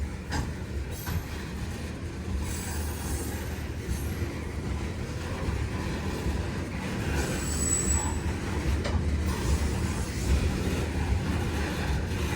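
A long coal train hauled by a single diesel engine rumbles steadily past at close range, with continuous rolling noise and a thin metallic wheel squeal rising partway through.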